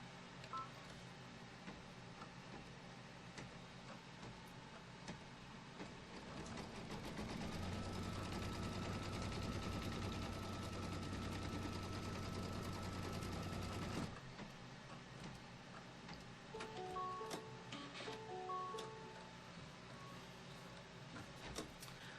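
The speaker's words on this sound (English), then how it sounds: "let's stitch out the placement line for the witch's hat" A machine-embroidery machine stitches the placement line for a witch's hat on a Kimberbell Pumpkins & Potions quilt block: a faint, steady mechanical whir that swells for several seconds in the middle, then settles back to a quiet hum.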